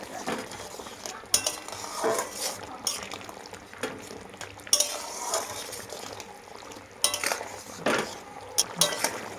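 Fish curry with ground black pepper gets stirred in a pan, with a spoon scraping and clinking against the metal in repeated uneven strokes over a soft simmering hiss, close and fairly quiet.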